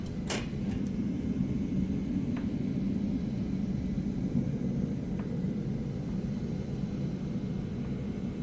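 Simulated airliner climbing out of Las Vegas in the TFDI 717 flight simulator as the landing gear retracts: a steady, loud broadband rumble of engines and airflow, with a brief clunk near the start.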